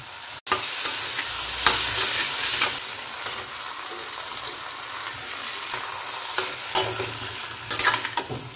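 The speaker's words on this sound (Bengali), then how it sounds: "এটা একদম ভাজা ভাজা করব আমি এখন, শুকনো শুকনো ভাজা ভাজা।" Fried potatoes with ginger sizzle in a pan while being stirred, a steady close crackle broken by scraping strokes of the spoon, with no voices.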